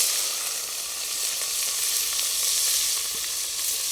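Sliced onions fry in hot oil in a pan at an outdoor village kitchen, a loud steady sizzle with fine crackles and faint stirring, close and continuous with no talk.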